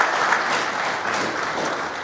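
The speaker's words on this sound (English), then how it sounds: "I want to give all of our retirees, their families, a round of applause" Applause for retirees and their families at a public meeting: a room full of people clapping steadily and fairly loudly, a dense even patter with no voices over it.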